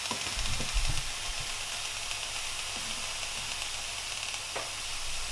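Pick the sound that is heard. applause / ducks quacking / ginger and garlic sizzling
ginger and garlic sizzling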